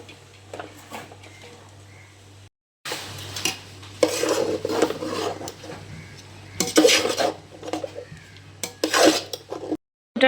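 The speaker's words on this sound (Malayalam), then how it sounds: "നേരത്തെ വേവിച്ച് വെച്ച റൈസ് ഇടാം." Precooked rice is tipped into a pan of gravy and stirred, giving clattering spoon-on-pan scrapes and knocks in uneven bursts, close and fairly loud, with a low steady hum beneath and a brief silent gap partway through.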